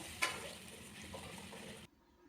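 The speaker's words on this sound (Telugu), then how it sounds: "ఈ పేస్ట్ వేసి పచ్చి వాసన పోయేంత వరకు వేయించుకోవాలి" Ginger, garlic and green chilli paste frying in a pan for a capsicum gravy, a steady soft sizzle with a sharp clink at the start, cutting off abruptly.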